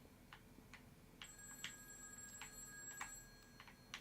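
A telephone rings faintly in the background in a few short repeated bursts over steady low room noise, with nobody speaking.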